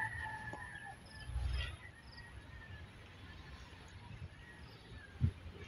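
Roosters crow in the distance on a rural vegetable farm, a few faint calls rising over steady outdoor ambience, with a brief low thump and occasional voices nearby.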